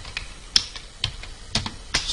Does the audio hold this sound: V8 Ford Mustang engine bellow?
no